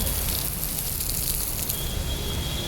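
Heavy rain pours down outdoors in a constant dense hiss with no break, loud and close, no voices over it.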